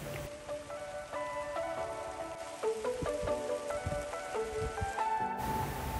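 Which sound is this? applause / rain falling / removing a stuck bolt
rain falling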